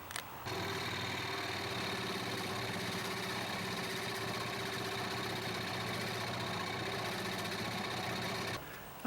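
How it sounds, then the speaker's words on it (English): A scroll saw cuts out the profile of a new wooden handle for a vintage Collins splitting axe, a steady buzzing mechanical drone that starts abruptly, runs evenly for about eight seconds and stops. "I'm going to go cut this out on my scroll saw"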